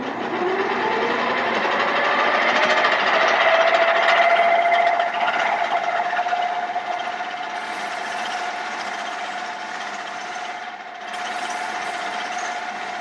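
A loud end mill cutting a stud hole on a milling machine gives a steady high whine with a rising tone, grinding on for several seconds before a short dip and then resuming.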